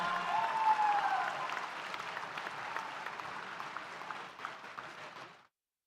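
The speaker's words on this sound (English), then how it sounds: "can we give another round of applause to our recent graduates?" A commencement audience at a university school of education ceremony breaks into dense, steady applause that fills the room, a brief whistle-like tone rising at the start, before the clapping cuts off abruptly.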